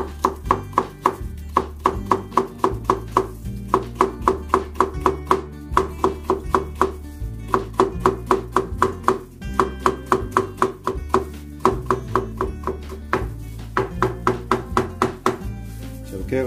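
A knife julienning cucumber on a cutting board in brisk, even chops, dozens of sharp close knocks in steady bursts over continuous background music.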